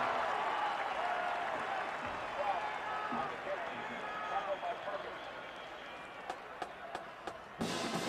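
A football stadium crowd roars steadily at a 1997 Missouri versus Nebraska game, a broad, distant rumble of cheering with a commentator talking over it and a few sharp claps and knocks near the end.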